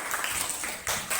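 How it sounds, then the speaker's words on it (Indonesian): Brief burst of classroom applause, a dense patter of hands clapping together at close range that swells near the end. "Bagus, tepuk tangan."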